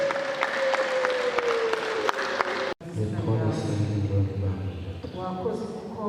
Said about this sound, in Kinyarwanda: Bakomera amashyi menshi ababyeyi